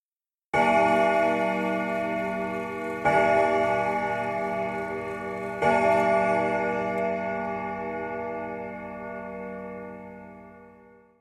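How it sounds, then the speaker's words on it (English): A grandfather clock chimes three times, each rich, resonant stroke struck at about two-and-a-half-second intervals and left to ring out and slowly fade alone. "there was the faintest sound of a grandfather clock chiming"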